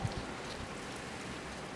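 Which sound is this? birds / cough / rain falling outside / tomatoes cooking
rain falling outside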